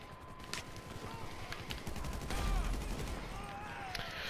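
Shotgun blasts and other gunfire in the GTA Online video game during a police standoff, with sharp shots scattered over a busy, dense din of game noise and a steady tone.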